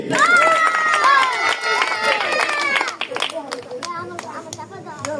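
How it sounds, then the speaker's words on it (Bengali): Children clap in a crowd at a magic show, a dense burst of clapping under excited children's voices that quickly gives way to talking. "একটা হাততালি করো"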